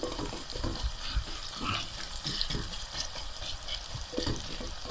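Chicken korma frying in a pan makes a continuous, moderately loud sizzle, broken by soft scraping and knocking as it is stirred, with no voices.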